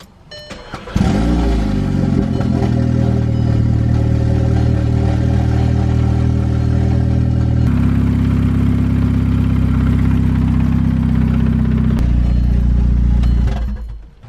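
A Volkswagen Mk6 Golf R with a catless SPM turbo-back exhaust cranks and fires up. It settles into a loud, raspy idle close by, and the tone shifts partway through before the engine cuts off.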